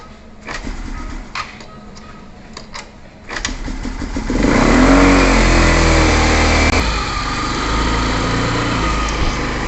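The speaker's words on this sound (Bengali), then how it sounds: "তো মোটরসাইকেল স্টার্ট হয়ে গেছে" A Runner scooter's kick starter is pushed a few times with sharp clanks before the small engine catches, then idles loudly and steadily up close, revving briefly before settling.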